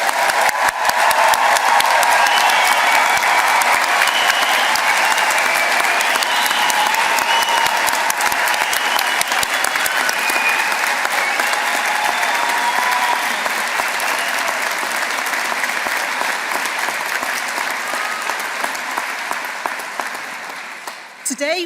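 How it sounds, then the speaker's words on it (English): Sustained, dense round of audience applause for new graduates at a graduation ceremony, steady and loud throughout before thinning slightly near the end. "let's take the opportunity to give our wonderful new graduates all a huge round of applause"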